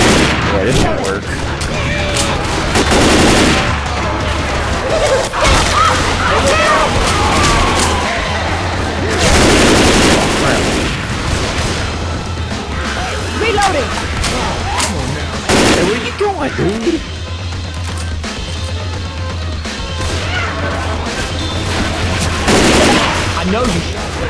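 Gunfire in Left 4 Dead 2 during a swamp zombie fight: repeated loud bursts of shots and rapid automatic fire rattle on and off, with heavy booms among them, while players talk over the action.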